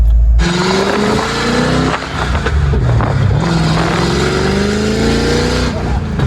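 A Ford Mustang engine revs hard and loud with its exhaust fully open, rising and falling in pitch over a deep rumble, with a brief dip midway before climbing again.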